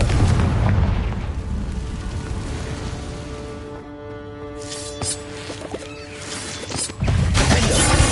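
A fiery Confringo spell bursts in Hogwarts Legacy with a loud, rumbling boom that swells and fades over several seconds, followed by softer mechanical clatter and a second surge of roaring blast near the end.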